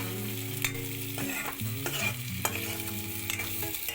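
Pumpkin pieces being stirred in a hot frying pan, the spatula scraping steadily against the metal over a continuous oil sizzle, close and fairly loud with no talk.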